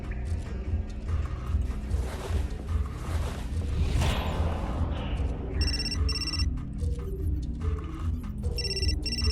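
A telephone rings in the video game Still Life 2, its repeated bright electronic trills breaking in over the second half, layered on a steady, dense bed of game music and ambience.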